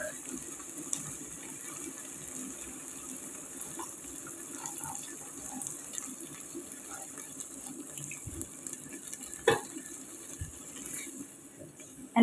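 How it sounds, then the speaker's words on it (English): Coconut milk pours steadily and continuously into a pot, a soft gushing flow with faint clinks and small splashes, fairly quiet and close. "So I'm going to go in with my coconut milk."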